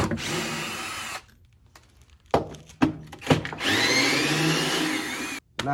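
A power tool with a 10mm socket spins out bolts on a transmission, whirring in two sustained bursts separated by a quiet pause punctuated by short clicks and clanks of the tool and metal parts.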